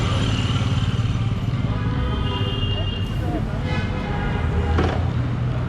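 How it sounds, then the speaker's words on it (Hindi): A Royal Enfield Meteor 350 motorcycle being ridden gives a steady, loud engine thrum with wind and road rumble, with a voice speaking over it. "So this is I'm riding the new Meteor 350."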